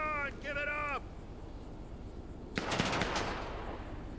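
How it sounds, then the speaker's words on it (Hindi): A short burst of rapid gunfire crackles from the GTA 5 video game, loud over a steady background hum, preceded by a voice speaking. "गोली चल गई है"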